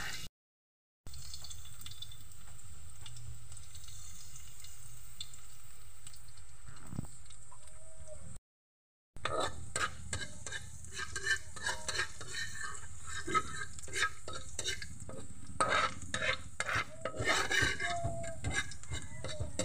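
Garlic pieces hit hot cooking oil in a pan, sending up a dense, close crackling sizzle with rapid popping that runs steadily once it starts. A quieter hiss comes before it, with short gaps of silence.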